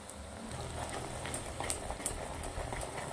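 Potatoes and onions sautéing in hot oil give a steady, close sizzle and bubbling crackle with faint scraping of stirring, alone without talk.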